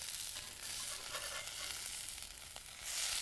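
Hash browns fry in a pan with a steady, close crackling sizzle that holds throughout, swelling a little louder near the end, with no voices.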